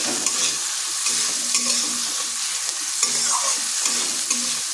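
Chopped tomato and salt being stirred into onions frying in a pan for a pointed gourd (potol) and fish curry: a steady sizzle with repeated scraping stirs of a spatula, close and continuous, no voices.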